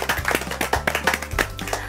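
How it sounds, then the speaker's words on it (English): A group of children at a church show claps together in short, uneven bursts of sharp hand slaps, close and lively, fading and picking up again over a couple of seconds. "Let's clap for ourselves for those trials."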